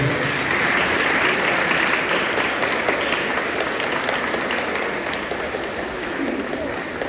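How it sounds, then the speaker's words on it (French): An audience at a school's centenary celebration applauds in a continuous, even wash of clapping that holds steady for several seconds with faint crowd murmur beneath. "Petit applaudissement pour nous."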